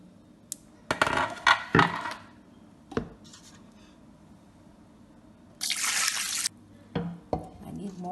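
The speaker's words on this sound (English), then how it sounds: "So now it's time to add the water." Water pours into a pot holding seasoned beef, onions and hen for egusi soup, heard as two bursts of splashing a few seconds apart, mixed with clinks and knocks of pots and utensils in a quiet kitchen.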